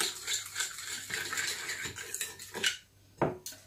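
Homemade mayonnaise sauce being mixed in a bowl for a coleslaw salad, with a spoon scraping and clinking against the sides in close, uneven strokes and a few sharper knocks near the end.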